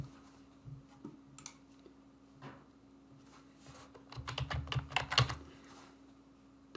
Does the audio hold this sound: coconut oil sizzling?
no